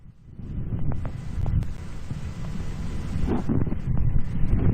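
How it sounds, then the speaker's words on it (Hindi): Strong wind buffets the microphone in Mumbai, with a low rumbling roar that builds in gusts and never lets up. "तेज हवाओं के साथ ये बारिश हो रही है"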